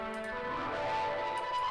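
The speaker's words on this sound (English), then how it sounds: "So after that, I added this synth on top." Analog Lab synth sent through a pedal board with overdrive and a Little Radiator, sustaining bright layered tones with a steady held note for a short stretch, alone without voices.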